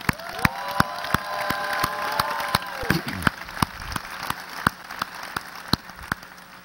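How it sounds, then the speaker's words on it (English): Scattered applause from an audience at a FIRST robotics regional opening ceremony in Seattle, sharp individual claps spread across a large hall over a tonal whirring sound that sweeps downward midway. "So big round of applause for those people"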